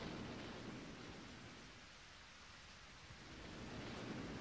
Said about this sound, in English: It's starting to thunder now, too. We should get out of this storm.